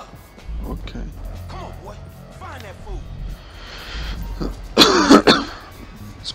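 A single throat-clearing cough from a man playing GTA 5 on PS4, bursting out loud and close near the end amid game sounds and a low background rumble, following brief talk.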